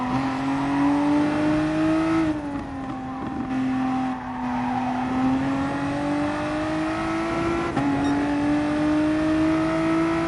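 VW Supersport car in a video game on the Nürburgring GP circuit, the engine screaming at full throttle with a tone that climbs, dips briefly as it shifts or lifts, then climbs again; loud and close, no voices.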